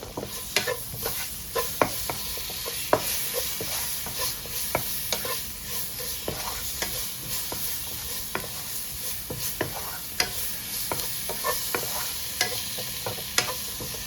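Tomato added to a hot pan of spices for a beef roast, steadily sizzling and frying with repeated spoon-stirring scrapes and clinks, close and continuous, with no talking.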